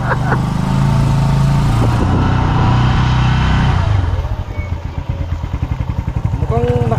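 A motorcycle engine rumbles close by during a ride, steady and loud at first, then settling into a choppier, pulsing idle-like putter in the second half.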